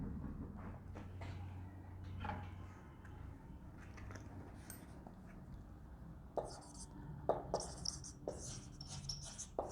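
Chalk or marker scratches against a board in a classroom during an ethics lecture, with short strokes and taps in the later part while the lecturer speaks.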